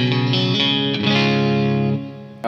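Electric guitar with a Wampler Black 65 overdrive pedal switched on rings out in a sustained, lightly driven chord with a bright edge, played alone and close, fading near the end.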